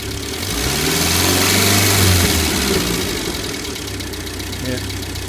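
A 1994 Ford Econovan engine idles steadily and fairly loud with a low, even hum after a new alternator fit, swelling slightly midway and then settling back to a constant idle.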